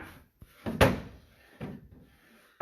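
A waxed wooden dresser drawer slides inside its drawer box, producing a few soft scraping glides and light knocks of wood against wood at close range, with quiet pauses in between.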